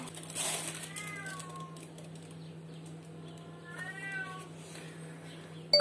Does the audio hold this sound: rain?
no